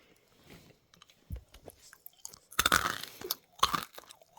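Snack chewing with two loud, close crunchy bursts late in the clip, after scattered softer bites and mouth sounds.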